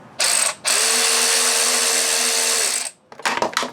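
A ratchet spins off bolts from a Yamaha WR250 motorcycle skid plate, a short burst of rapid clicking, then a longer steady buzzing run, followed by a few quieter clicks at the end.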